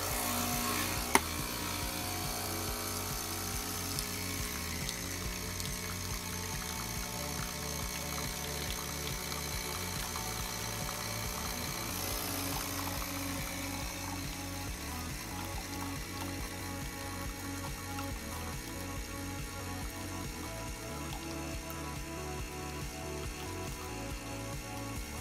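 A Nespresso machine brewing an Ethical Coffee Company capsule set for a longer shot, with a steady low pump drone and rattling vibration continuing evenly throughout, a faint click near the start, no talking.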